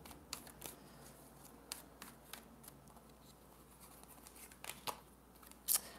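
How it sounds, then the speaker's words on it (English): Tarot cards are shuffled close up in quiet, soft riffles and light taps, with scattered crisp card snaps and a sharper flick near the end. "Let me pull a couple more cards for you."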